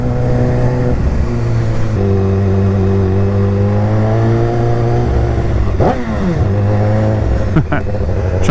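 A BMW S1000RR motorcycle with a loud exhaust revs hard, its engine note climbing and dropping in sustained roaring pulls with sharp blips near the end, close and dominant, with voices partly beneath it.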